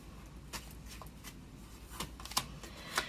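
Tarot cards being shuffled and drawn from the deck: soft papery riffles with a few sharper card snaps and flicks, quiet and close, with no talking.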